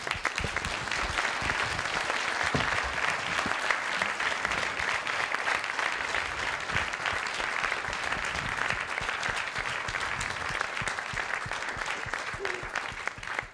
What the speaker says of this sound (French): merci Hervé, merci Hubert, on vous applaudit